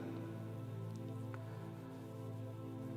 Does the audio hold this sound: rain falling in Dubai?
yes